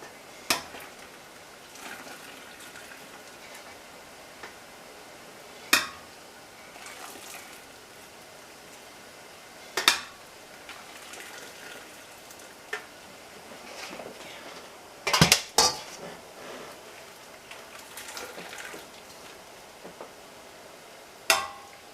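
Blanched spinach being scooped out of a pot of water, heard as faint watery swishing with scattered sharp clinks of utensil against the pot at irregular intervals, a louder cluster midway, no talking.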